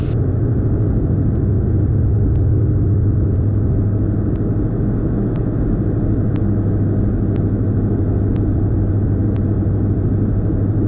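Twin engines of a DA42 aircraft in flight, throttled back to a steady, even drone with constant low rumble, alone, with faint periodic ticks throughout.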